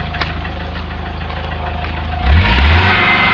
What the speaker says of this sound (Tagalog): Walang hatak, mausok at tagiktik ang andar.